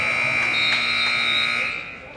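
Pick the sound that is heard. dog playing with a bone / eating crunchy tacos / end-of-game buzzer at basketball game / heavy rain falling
end-of-game buzzer at basketball game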